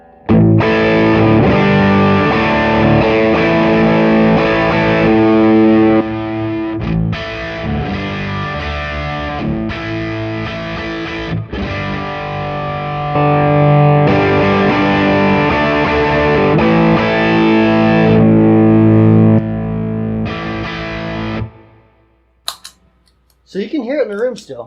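Distorted electric guitar played through a stereo two-amp rig with a drive pedal, loud and sustained chords ringing for about twenty seconds before cutting off, followed by a brief bit of noise.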